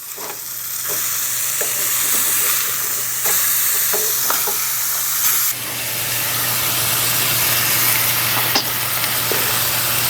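Smashed burger patties sizzling loudly in a pan after being flipped, a dense continuous hiss and crackle that swells in bursts, with occasional clicks of a spatula against the pan.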